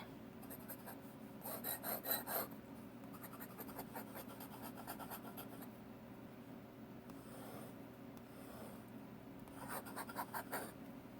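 A metal dip pen nib scratching across paper, close and quiet, in short bursts of rasping strokes with pauses between them.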